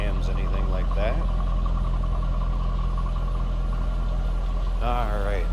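A 2003 Chevrolet Corvette 50th Anniversary convertible with a 5.7 liter engine and stock exhaust idles in a steady, even drone, heard up close, with a voice briefly talking over it.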